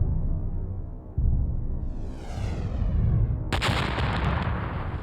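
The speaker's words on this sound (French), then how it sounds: "une nouvelle météorite géante s'écrase dans ce qui deviendra le golfe du Mexique." A giant meteorite crashing into what would become the Gulf of Mexico, rendered as a deep booming impact that swells into a rushing whoosh and then a loud, bright blast, with no talk over it.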